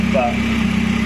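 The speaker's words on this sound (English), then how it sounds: "it's idling much nicer than I think it ever has done" A Saab 900 engine idles steadily just after starting, with a loud, even mechanical drone and a low pulsing throb, close by, while someone speaks over it.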